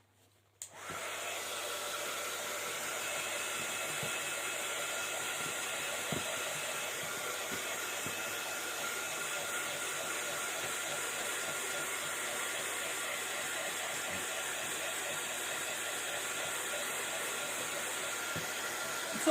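A heat tool runs steadily for about nineteen seconds, drying the gesso on a mixed media card background with a loud, continuous blowing hiss and no voices.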